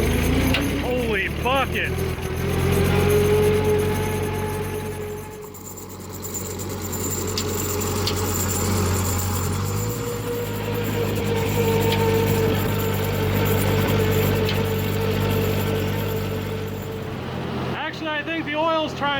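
A 1940s tractor engine revs up and settles back, a steady rough drone that swells and eases over about twenty seconds, with a voice calling out loudly over it near the start and end.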